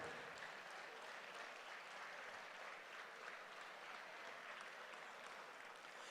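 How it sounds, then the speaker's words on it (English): Faint, distant round of applause for board chairmen at an ECU campaign kickoff celebration, a steady wash of clapping from a roomful of people continuing evenly throughout. "Let's all give a big round of applause to all these chairmen, future chairmen, past chairmen of all of our different boards."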